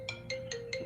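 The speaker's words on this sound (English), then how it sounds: "here he is calling my other phone" A mobile phone rings with an incoming call, four short repeating electronic ring bursts at an even rhythm over a steady background hum, fairly close and clear.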